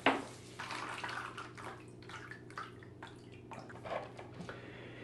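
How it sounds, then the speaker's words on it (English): Water splashes and trickles through the soil of a freshly repotted Japanese maple bonsai and drains into a small plastic tray below, a close, steady running and dripping sound with no talking. "We'll give our new repotted maple tree a really good water in here, get rid of some of those powdery residue from the soil, get through into this little plastic tray down here."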